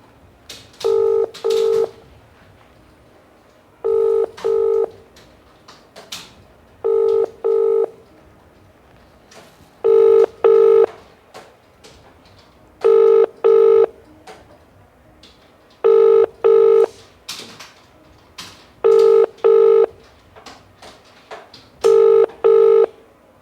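A phone call is placed and dialed: paired DTMF keypad tone bursts come in steady groups of two, repeating about every three seconds with brief gaps, loud and close, no talking.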